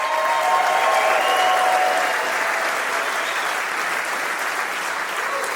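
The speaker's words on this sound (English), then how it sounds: "We'd like to give a round of applause to the staff of Darren." Steady, sustained applause from a theater audience at a concert in the Paramount Theater, St. Cloud, Minnesota, a dense wash of clapping that continues evenly throughout.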